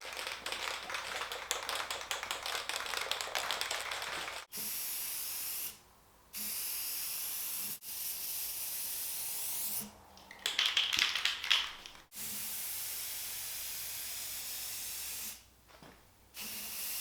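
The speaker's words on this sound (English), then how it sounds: "Now we're ready to hit it with the Rustoleum self-etching primer." Rustoleum self-etching primer hisses from a spray can in repeated close bursts, steady rushing sprays broken by short pauses, with a few light taps between them.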